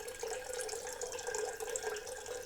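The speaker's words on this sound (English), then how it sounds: "let's focus now on the sound of running water" Running water flows in a steady, continuous stream, like a tap filling a basin, close and even in level with no other sounds.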